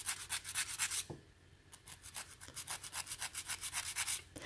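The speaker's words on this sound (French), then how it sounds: "je maintiens la lime et je bouge l'ongle" A nail file rasps back and forth across an acrylic nail built on a form, in quick rhythmic strokes close by, with a short pause partway through before the steady filing resumes.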